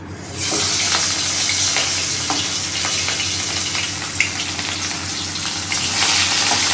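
Fish and potato slices frying in a hot pan, a steady close sizzle throughout with occasional spatters and stirring clinks, no talk.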